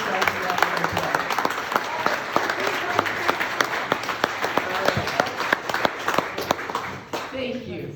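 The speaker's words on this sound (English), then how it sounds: "Everyone, give yourself a round of applause." Sustained applause from a community audience of volunteers in Pentwater, dense steady clapping with sharper individual claps standing out, running for several seconds before tapering at the end.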